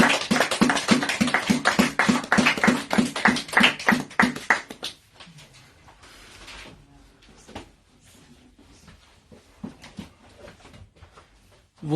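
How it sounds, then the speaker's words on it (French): Rhythmic clapping from a church congregation, loud and steady for about five seconds, then stopping abruptly and leaving quiet room noise with a few faint scattered sounds. "Vos applaudissements étaient pour Mr."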